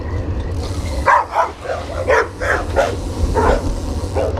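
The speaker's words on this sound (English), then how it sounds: "Oh, there's a dog." A dog barks at a passing cyclist in an alleyway, a string of several loud, close barks and yips over steady wind and road rumble from the moving bike.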